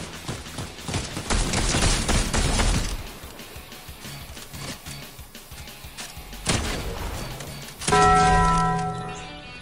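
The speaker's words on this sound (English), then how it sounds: "Who's shooting at me?" Fortnite gunfire comes in dense rapid volleys, loud and close, broken by a quieter gap before another burst and a ringing, metallic-sounding blast near the end.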